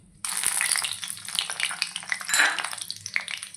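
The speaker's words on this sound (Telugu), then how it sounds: "ఆయిల్ వేడెక్కిందిగా ఫ్రెండ్స్ ఎండుమిర్చి వేసుకుందాం" Dried red chillies drop into hot oil for tempering a Tamil Nadu style amaranth pulusu, setting off a loud, close, continuous sizzle and crackle that starts abruptly and keeps popping throughout, with no talking.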